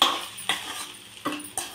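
Egg is mixed with garam masala in a pan, with four sharp spatula knocks and scrapes against the metal over a light background sizzle, close up.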